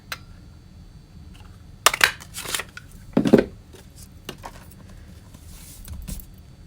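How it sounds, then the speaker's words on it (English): Paper is cut with a 1 3/4 inch circle punch during a papercraft project, giving a few sharp crunching clicks and snaps clustered near the middle, close and clear, with no talking. "we're going to cut this out with the 1 3/4 circle punch"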